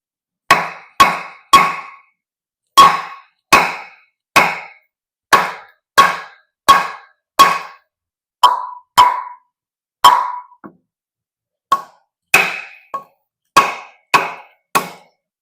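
Repeated sharp knocks as an N690 steel Sitivien ST28 combat knife with a flat grind is batoned through a freshly cut log, about twenty crisp close strikes in a steady rhythm with brief gaps, wood splitting as the blows continue.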